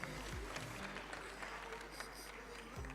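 Audience applause fills the hall at a Reine du Muguet pageant election in Compiègne, a steady, dense clapping that carries on from start to finish at a moderate level.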